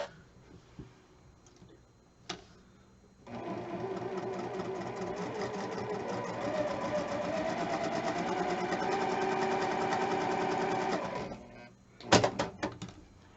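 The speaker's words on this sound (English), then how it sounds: "I'm going to sew on that line that I drew corner to corner." A sewing machine stitches a corner-to-corner line across a quilt block, a steady rapid mechanical chatter running for several seconds, close and moderately loud, with a few clicks and handling knocks before and after.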